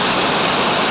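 Steady, loud broadband roar of Lourdes Falls, a waterfall in Barangay Nara, Bayawan City, rushing continuously and close by with no voices over it.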